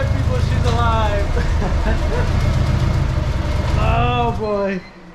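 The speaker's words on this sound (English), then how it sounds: "It's idling like shit because I had to." Z car engine idling roughly just after starting, a low, uneven rumble running steadily beneath someone talking close by, dropping away abruptly near the end.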